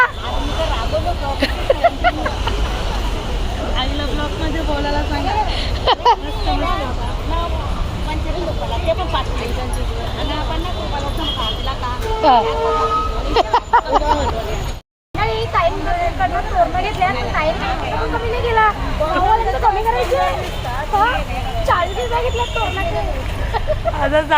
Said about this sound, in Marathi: हे ट्रॅफिक बघा किती झाली आहे